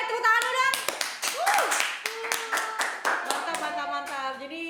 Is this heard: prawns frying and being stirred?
no